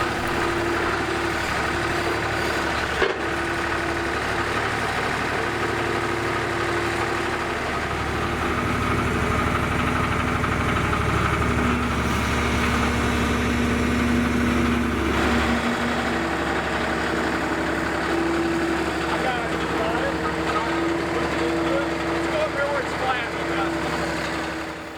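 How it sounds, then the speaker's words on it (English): Skid steer tractor engine idling steadily while lifting a 700 lb beam outdoors, a constant low diesel rumble with a faint tonal whine, close and continuous, with a voice talking over it. "And the skid steer lifts this beam with ease."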